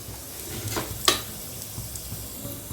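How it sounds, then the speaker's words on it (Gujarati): Tempering sizzles in a pan on a home stove while dhokla is being made, a faint steady frying hiss with a few brief sharp crackles and a louder pop near the middle, no talking. "વઘાર થઈ ગયો."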